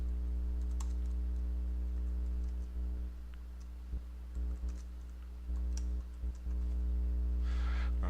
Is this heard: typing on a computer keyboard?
yes